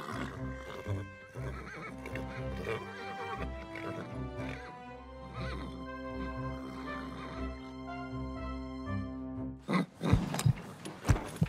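Tonal music and crowd-like game sound effects from a horse racing video game, with a racehorse's whinny and hoofbeat effects mixed under the steady soundtrack, ending in louder bursts near the close.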